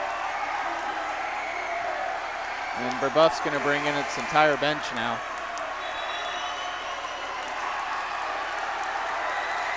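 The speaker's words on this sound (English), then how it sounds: "And the crowd cheers for their home team" Crowd noise from a boys high school basketball game, Brebeuf against Chatard, a steady roar of cheering and applause for the home team running the full length under a play-by-play voice.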